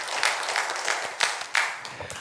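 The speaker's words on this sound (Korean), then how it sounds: "하나님께 영광의 박수 드리겠습니다." A church congregation claps during a worship service, a scattered patter of hands with a few sharper claps standing out, fairly soft and moderately close, with little talk.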